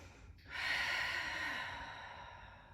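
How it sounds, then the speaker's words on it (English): During a yoga flow, one deep breath is drawn in sharply and then let out as a long, airy exhale close to the microphone, with no speech. "Breathing deeply here."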